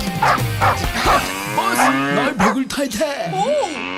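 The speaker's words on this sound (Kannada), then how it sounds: "ಹಸುಗಳೆಲ್ಲ ಕೂಗ್ತಾ ಇದೆ" Several cows moo loudly and close by in a village setting, drawn-out calls overlapping one another, with a dog barking among them.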